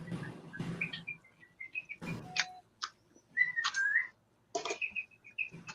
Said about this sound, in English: I kind of like the bird noise in the background.